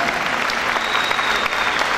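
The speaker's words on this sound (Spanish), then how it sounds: "que merecen un fuerte aplauso de todos nosotros" Warm, full audience applause for war veterans at an Argentine patriotic festival, a brief, dense roar of many clapping hands, loud and close.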